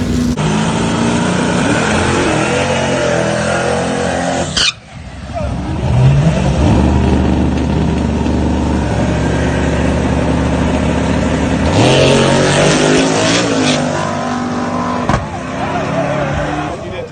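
Big-tire drag race car making a pass with no boost building: a loud sustained engine roar, a sharp cut, then renewed revving and a steady drone with shifts, near and dominant.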